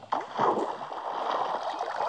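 Water is placed from a bucket in Minecraft while building a nether portal. After a quick click, a sloshing, gurgling flow follows and runs steadily to the end.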